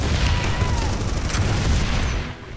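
Loud, continuous automatic gunfire in the sci-fi shooter Planetside 2 on PS4, rapid overlapping shots with booming impacts that hold steady, then drop off abruptly near the end.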